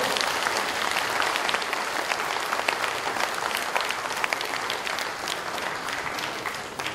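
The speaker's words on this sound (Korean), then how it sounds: "다시 한번 박수" A seated audience at a political forum in a hotel hall breaks into sustained applause after a former prime minister's speech, a dense even wash of clapping lasting the whole stretch.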